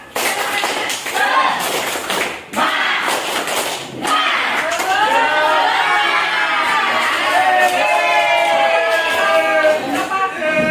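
An Indonesian class of children chant and clap a "tepuk semangat" spirit clap together in a quick rhythmic pattern, loud and close, with a few shouts breaking in between.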